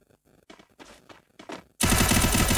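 Gunfire in the video game Free Fire: a few soft thuds and shuffling sounds, then a loud, dense burst of automatic shots fills the final second, close and continuous.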